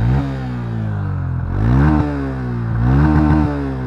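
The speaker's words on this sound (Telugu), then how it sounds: "ఎగ్జాస్ట్ సౌండ్ విన్నారు కదా, చాలా స్మూత్గా ఉంది." A 2025 Honda CB 125 Hornet motorcycle idles close and loud, then its engine and exhaust rev up twice in smooth rising swells before settling back.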